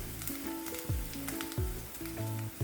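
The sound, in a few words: garlic and ginger sautéing in pan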